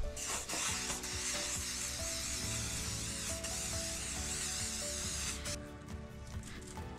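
A can of adhesive aerosol spray sprayed onto an engine gasket in a steady close hiss lasting several seconds, then tapering off.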